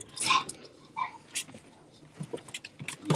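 Six-week-old puppies feeding, with soft scattered whimpers and small squeaks over quiet eating noises, faint and close.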